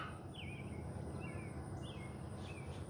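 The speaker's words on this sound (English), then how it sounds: "Listening to the birds chirp." Birds chirp in brief, scattered calls on a calm outdoor morning, faint and distant over a steady broadband hiss of ambient noise.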